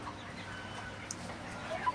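Broiler chickens, 33 days old, cluck softly on a small farm in Faridpur, with a few brief calls rising near the end over a steady low hum of the shed.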